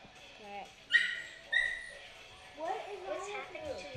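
In the online shooter Red Crucible 2, a dog yelps sharply twice and then whimpers in a run of wavering whines, with people talking over the sounds.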